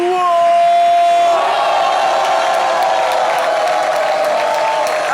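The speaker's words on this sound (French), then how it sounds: "je vais vous entendre crier « Wow !»" A studio audience on a live French television variety show cheers and shouts together, a loud sustained crowd roar that swells after a brief opening tone and carries steadily to the end.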